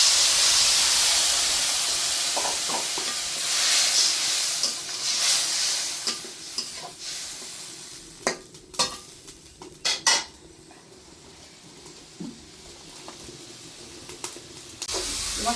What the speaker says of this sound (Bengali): এখন মশলাটা কষাবার জন্য দিয়ে দেবো অল্প কিছু গরম জল।